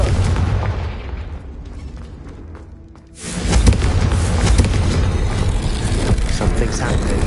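A Confringo fire spell explodes in Hogwarts Legacy, a loud sudden burst midway that swells into a dense, sustained roar after a quieter stretch of game ambience.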